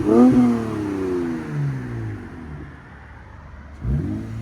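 Lexus RC 350 with a 3.5L V6 and muffler delete or straight pipe exhaust, parked in purple paint, blips its throttle in a sharp rising rev at the start, then settles to a low idle burble before a second brief rev near the end.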